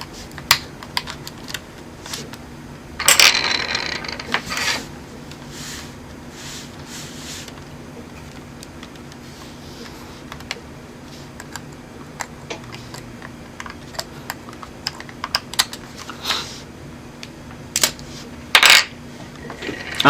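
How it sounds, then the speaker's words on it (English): Small hard parts click, tap and rattle as a wireless card is popped out of an opened laptop, with scattered close clicks and two sharper metallic snaps over about twenty seconds. "let's pop this thing out. This wireless card out."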